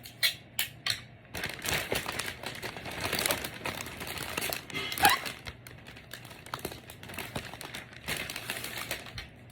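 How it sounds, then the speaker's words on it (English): Gift basket wrapping being folded and taped down at the sides, giving a run of close crinkling and crackling with sharp taps and rustles, no talking. "all I'm doing is folding the extra in, and I'm going to tape it in."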